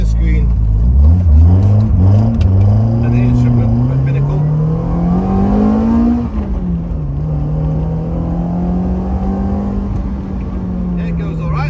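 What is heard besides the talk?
rally Hillman Imp car engine revving while driving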